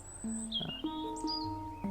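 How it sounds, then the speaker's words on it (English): Outdoor birdsong at a permaculture garden: several birds chirp and whistle in quick overlapping phrases, clear and moderately close, with no talking. "To sit here and have these birds just going crazy."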